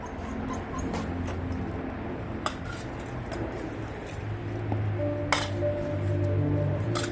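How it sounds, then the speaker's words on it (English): Puppies eating diced raw fish for the first time, with close chewing and smacking, light clinks of a dish and occasional soft whimpers, no talk. "This is their first time eating fish, so we'll see what happens."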